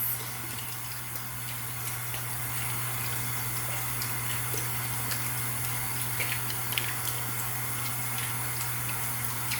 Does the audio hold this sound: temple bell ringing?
no